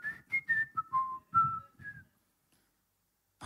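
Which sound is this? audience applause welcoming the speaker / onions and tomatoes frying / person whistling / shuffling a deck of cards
person whistling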